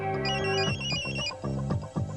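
A telephone rings in a Hindi film scene, sounding as a bright electronic ringtone with repeated tonal bursts that carries on alone and fairly loud through the whole clip.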